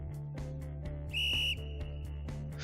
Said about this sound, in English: With a violently loud blow of his whistle, the coach also takes his position to show the proper technique.